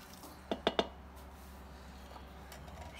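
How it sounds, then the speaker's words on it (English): Rinsed and drained canned black beans tipped into a pot during home meal prep, landing in three quick, soft plops close by before the kitchen goes quiet. "we're gonna dump in one can of black beans that he has rinsed and drained"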